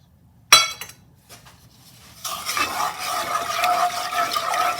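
Sugar and water stirred in a saucepan over low heat for homemade lemonade: a single sharp clink, a brief pause, then continuous close scraping and swirling of the utensil against the pan.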